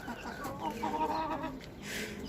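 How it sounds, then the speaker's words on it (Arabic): Chickens, hens and a rooster, cluck softly and steadily on a rooftop, a close, low murmur of clucks with a brief hiss near the end. "هذا ديك شوفوا"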